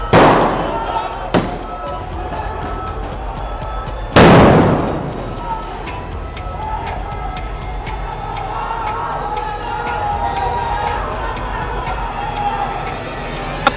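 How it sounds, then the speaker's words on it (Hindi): Bomb-like blasts during street violence in Nagpur: two loud, close bangs a few seconds apart, each with a sharp crack and a trailing rumble, over steady outdoor noise with crowd sounds and a steady ticking of small pops. "बम फटने जैसी आवाज सुनाई देती है"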